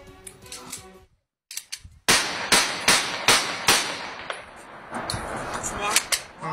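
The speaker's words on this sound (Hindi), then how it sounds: "शादी की तकरीब में नौजवान हवाई फायरिंग कर रहे थे" Celebratory aerial gunfire at a wedding: a rapid string of about eight sharp gunshots cracking in steady succession after a brief pause, loud and close, with a voice heard around the shots.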